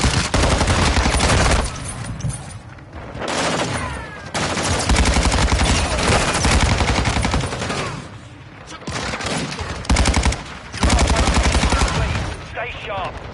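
Sustained bursts of automatic gunfire and explosions from a Call of Duty match on the Shipment map, loud and dense with brief lulls, with faint voice callouts mixed in.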